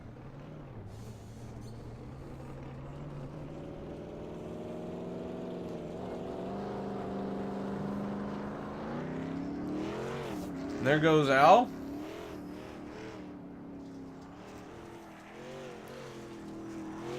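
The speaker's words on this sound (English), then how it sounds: "these trucks on dirt are a lot of fun" Racing trucks circle a dirt track during a doubleheader race night at the Grove, their engines droning and rising into a brief louder whine as the pack passes, all under a commentator's voice.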